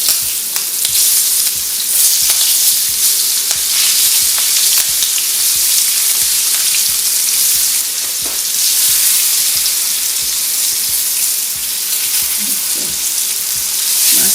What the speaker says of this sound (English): At this stage, I'm going to start adding my onions